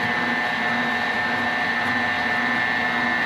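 Electric mixer whirling a regular white cake mix batter, a steady, even motor whine and hum that holds constant at close range with no pauses.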